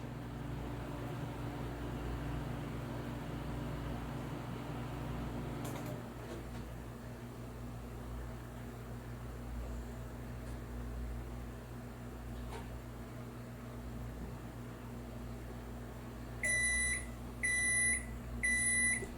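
A Toshiba multifunctional microwave oven running with a steady low hum and fan drone, a couple of faint clicks partway through, then a series of three loud, high-pitched finish beeps at the end.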